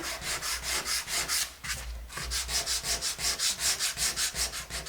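Sandpaper rubbed by hand over painted, stained wood planks in quick, regular back-and-forth strokes, close and scratchy, with a brief pause partway through before the rhythm resumes.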